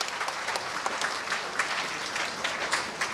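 Crowd at the inauguration of a technical and vocational high school in Haiti breaks into brisk, dense applause, a steady close clatter of many hands with no talk over it.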